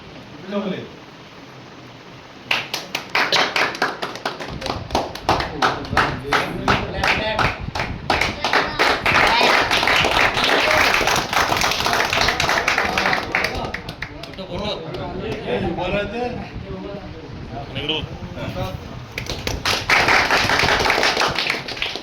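Loud applause breaks out at a felicitation ceremony honouring singers and musicians, with many hands clapping in a dense, sustained burst that runs for most of the stretch, and a voice speaking over it.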